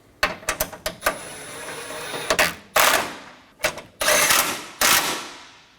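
A ratchet snugging down 13mm bolts on the radiator support bars of a 2011 Dodge Durango 5.7L V8, sharp close clicking bursts in irregular clusters separated by brief pauses.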